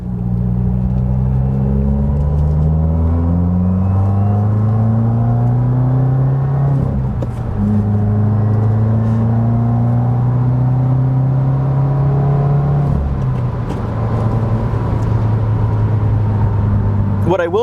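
A Subaru WRX of the 2015-2021 VA generation with a 2-liter engine accelerates, its steady engine drone rising and falling through gear changes, loud and close from inside the cabin.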